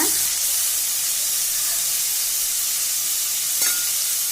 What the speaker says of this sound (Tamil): நல்லா ஃப்ரை பண்ணிக்கலாம்.